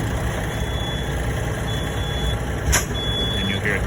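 A semi truck backs up slowly to couple with its trailer, its diesel engine rumbling steadily and loud throughout, with a brief sharp mechanical burst near the end and faint high warning tones.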